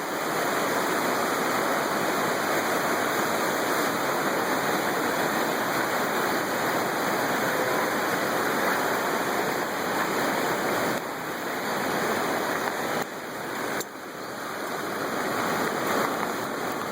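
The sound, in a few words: floodwater of the Fox River rushing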